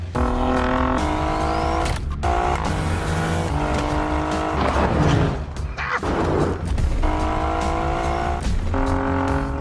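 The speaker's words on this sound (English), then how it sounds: "And then there's the way it revs." An Alfa Romeo Giulia Quadrifoglio's turbocharged engine revs hard repeatedly, rising in pitch through the gears with brief drops between shifts, loud and close throughout.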